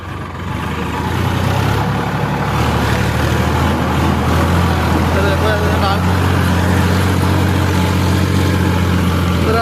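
A Sonalika 45 tractor engine labours steadily uphill in second gear, a loud continuous low drone that swells slightly as it climbs, with no break in the sound.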